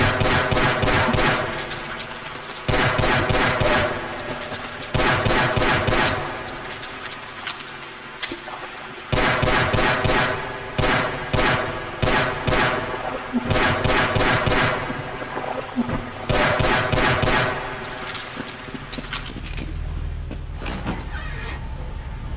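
Bursts of pistol fire in the video game Half-Life: MMod, loud sharp shots in quick clusters over a steady game soundtrack, with pauses between volleys.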